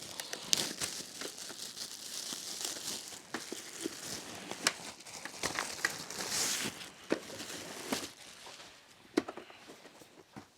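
Plastic packaging material crinkling while an air purifier is unboxed, with irregular close crackles and rustles, some sharper bursts, and quiet handling sounds in between.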